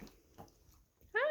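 A puppy lets out a short burst of high whining yelps at the very end, loud and close after a stretch of quiet room noise.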